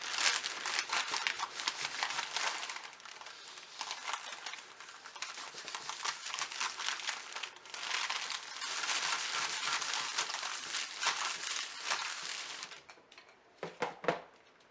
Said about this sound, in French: je vais venir poser par-dessus une feuille de papier cuisson et je vais venir passer mon fer